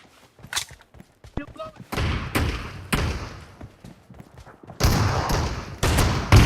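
Shotgun fire in a BGMI (PUBG Mobile) team deathmatch: a handful of loud, close blasts with short gaps between them, each decaying quickly, plus a few softer game sounds at the start.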